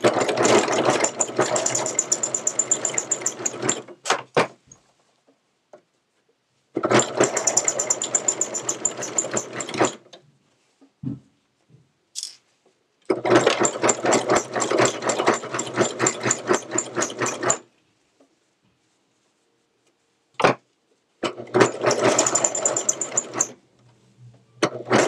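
A serger with a cutting knife sews pajama pants in four bursts of fast, loud, rattling stitching, each a few seconds long, with short silent pauses and scattered clicks between runs.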